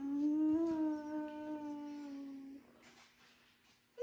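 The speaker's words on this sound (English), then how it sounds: "what kind of sound does the dog make" A single dog howls in a long, steady, wavering tone that fades out after a couple of seconds, followed by faint rustling.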